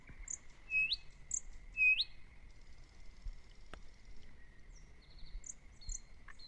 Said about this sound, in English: In this audio, you can hear ducks and frogs in the pond, as well as birds in the surrounding trees.